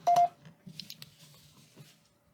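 A Samsung Galaxy S22 Ultra gives a short, quiet electronic beep-tone alert reminding to reinsert the S Pen, followed by faint soft clicks and low background hum.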